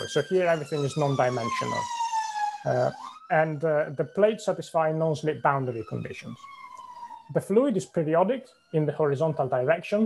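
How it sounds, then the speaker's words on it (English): A siren passing outside wails up and down in the background, rising and falling, while a man lectures steadily over it in the foreground. "I do apologize for the siren that just went by."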